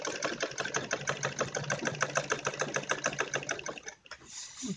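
A sewing machine stitches the shoulder joint of a kurti, joining back and front pieces, with a close, rhythmic rapid needle chatter for about four seconds before it stops and a softer handling noise follows.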